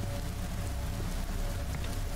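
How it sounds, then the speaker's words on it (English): Steady rain pours on a surface in the video game The Shopping List, a dense, even hiss with no breaks and no voices across the short stretch. "Yeah, I like the rain."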